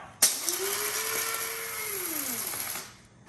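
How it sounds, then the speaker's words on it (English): An electric grinder whirs as it grinds a quarter cup of dark roast coffee beans very fine, a steady high motor whine with a faint rising and falling hum, close and alone for about three seconds. "we're just gonna grind those really fine"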